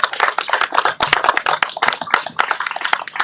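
Audience clapping at a ceremonial gathering, dense and continuous applause from many hands close by, sustained for a few seconds without speech.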